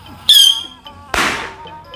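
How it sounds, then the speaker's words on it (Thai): A whistling firework rocket lit at a pet funeral gives a brief shrill whistle, then a sharp loud pop about a second later, close by and with no talking. "ต่อไปเป็นการจุดพลุวิตปั้งลูกที่ 3 ครับ"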